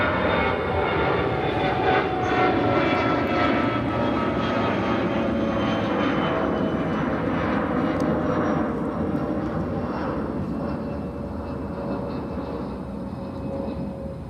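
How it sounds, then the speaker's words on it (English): An Etihad Airbus A350 pushes back at Chicago O'Hare amid steady jet engine roar and whine, continuous and fairly loud at first, easing slightly in the later seconds. "A350 pushing back."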